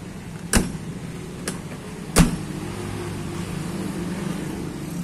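Doors of a 1995 Suzuki Carry 1.0 being shut, heard as three sharp thuds against a steady background rumble, the first and last louder, the middle softer, with no talking.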